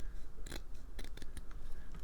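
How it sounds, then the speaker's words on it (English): Scissors snip through the metal edging of a Dollar Tree floral pick, giving a few sharp, close cuts and crunches in a quick burst with no one speaking. "you take your piece and then you're just going to cut off one edging"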